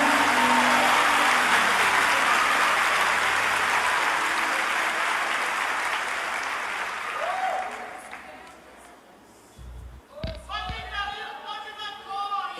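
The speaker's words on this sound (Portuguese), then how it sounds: "Se um aplaudir, tu aplaude, que é para não deixar ele no vácuo." A church congregation applauds loudly and steadily, then the clapping thins and fades out, followed by a voice speaking near the end.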